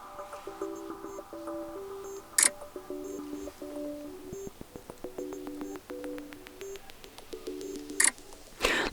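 A Sony Xperia Pro's camera shutter fires in sharp clicks, two crisp loud snaps standing out clearly from softer tapping and faint electronic beeps, all close and quiet with no voices.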